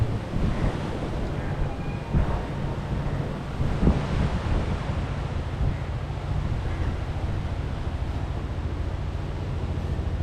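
Sea waves of a high tide near Mumbai wash in a continuous surge, mixed with heavy wind buffeting the microphone, loud and steady with no one speaking.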